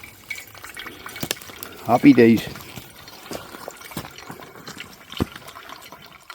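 Filtered water trickles and splashes into a container at a wet woodland wild camp, a short burst of filling sound rising briefly amid quiet outdoor ambience, with someone speaking briefly.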